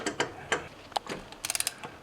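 Screws on the water pump of a Passat 35i being loosened with a ratchet, a few sharp clicks followed by a quick run of close ratcheting ticks.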